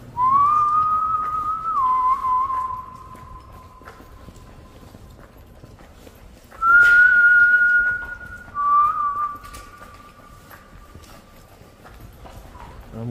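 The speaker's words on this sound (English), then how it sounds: "So maybe whistling invokes something." A person whistles long, steady tones inside an old, reputedly haunted railway tunnel in the Appalachian Mountains, two sustained phrases with a short gap between them. The whistling is loud and close and rings against the hollow tunnel.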